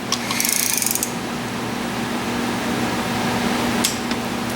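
A wrench ratchets in two short bursts while bolts are tightened in a crisscross pattern on a Honda CB450 engine during a rebuild, close up over a steady low hum.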